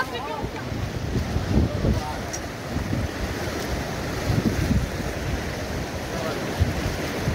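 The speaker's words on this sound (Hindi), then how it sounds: "ओए देखिए कितना खतरनाक रैपिड है" White water rapids on the Alaknanda river rush and churn loudly around a raft, a dense steady roar of water with bursts of splashing and wind across the microphone.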